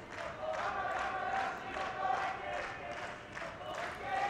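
Judo arena crowd with a cheering section in yellow jackets at a Tokyo Grand Slam, chanting in rhythmic, evenly spaced bursts, moderately loud and steady throughout.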